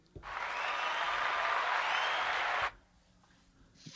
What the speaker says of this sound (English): Here's the round of applause.